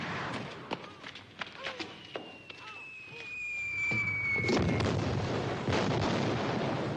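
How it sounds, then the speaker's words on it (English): Cannon fire in hilly country, a series of sharp booms at irregular intervals followed by a longer roaring blast and rumble, with a whistling streak overhead and someone talking. "That ain't thunder, that's cannon fire."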